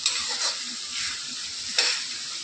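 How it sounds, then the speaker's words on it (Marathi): A slotted spoon stirs through hot frying oil, giving a bright continuous sizzle with a couple of louder scraping swishes, close and unaccompanied by speech. "आता झारा मस्त की असं हलवायचं या तेलामध्ये"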